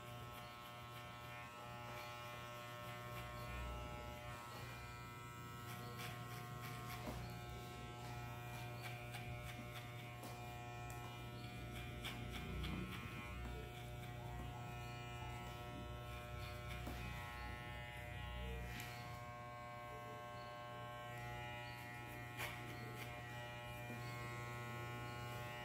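Electric hair clippers buzz steadily while trimming the neckline during a discreet modern mohawk haircut; the hum is faint and continuous, with small shifts as the blade moves along the nape.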